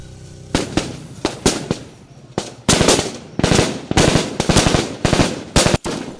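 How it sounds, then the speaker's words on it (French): Blank rounds fired during an ambush training exercise for defence volunteers: loud, close bursts of gunfire, single cracks and rapid strings of shots over about six seconds, with no talk. "L'exercice se fait avec des munitions à blanc, mais en situation réelle."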